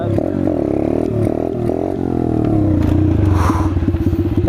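Chinese dirt bike engine during wheelie practice, revving loud and close with a steady buzzing drone that lifts and wavers as the throttle is worked, alone without talk.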